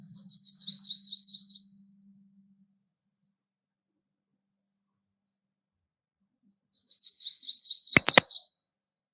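Blackburnian warbler singing, two bursts of very high, thin, rapid buzzy notes separated by a long silence, clear and close with nothing else behind them.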